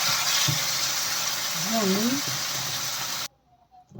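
Water poured into a frying pan holding sardines and tomatoes: a loud, broad hiss and sizzle lasting about three seconds, with a brief voice over it, then cutting off into near silence.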